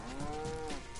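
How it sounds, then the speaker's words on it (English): A single cow moos in LittleBigPlanet 3, one short, close, wavering bellow with no talking. "I thought this would make many cows."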